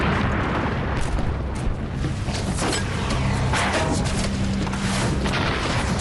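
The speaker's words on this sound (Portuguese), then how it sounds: "A artilharia japonesa caía ao redor de nós." Heavy booming explosions of Japanese artillery shells land around a ship in World War II, a continuous roaring rumble with repeated thuds, loud and near.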